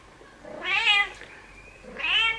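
A pet cat named Cal gives two drawn-out grumbling meows, the first longer and louder, the second shorter after a brief pause, close up in a quiet room with no talking.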